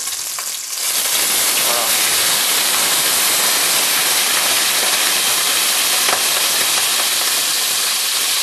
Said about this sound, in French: Il faut toujours faire très attention quand on verse un liquide hein, sur de l'huile qui a été chaude.